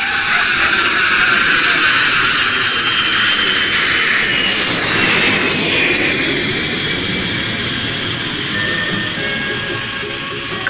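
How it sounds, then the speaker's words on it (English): Loud, steady roar of a jet aircraft engine in flight, a broad continuous rush that swells slightly midway and holds for the whole stretch. "Confound it, can't you fly this jet any faster?"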